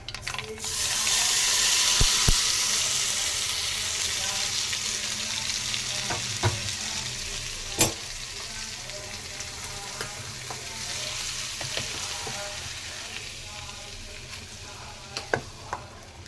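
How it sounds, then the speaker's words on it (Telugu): Tempering of ginger, chana dal, urad dal, mustard seeds, cumin and asafoetida sizzles loudly in hot oil for a mango cabbage chutney, a steady broadband fry with scattered pops and a few spoon clinks, no voices. "ఇదిగోండి దాంట్లోకి తిరగమాత వేస్తున్నాను"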